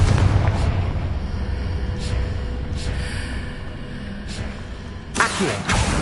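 Confringo fire-spell blasts in Hogwarts Legacy boom amid a rumbling battle. Several dull bursts hit at intervals, with the sharpest, loudest blast landing near the end.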